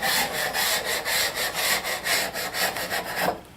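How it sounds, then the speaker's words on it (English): A grand piano part is sanded with sandpaper wrapped on a flat wood block: about a dozen steady back-and-forth scraping strokes, close and rhythmic, before stopping abruptly. "I'm going to just put a block of flat wood with some sandpaper on it."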